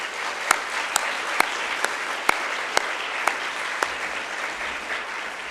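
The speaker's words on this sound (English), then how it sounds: "Can we show our applause for them in their absence, please?" Applause from an audience at a secondary school awards ceremony, a steady wash of many hands clapping at moderate level with a few sharper individual claps standing out at intervals.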